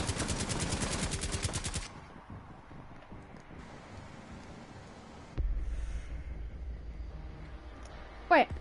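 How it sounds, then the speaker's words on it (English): Rapid automatic gunfire in the video game Rainbow Six Siege, a dense burst of shots for about two seconds, followed by quieter in-game ambience and a short sharp sound at the very end. "who shot at me?"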